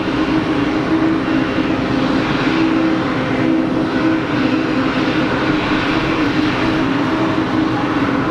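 Airliner taking off from runway 22 at Geneva Airport, a loud, steady broadband engine roar with a low hum that holds throughout without letting up.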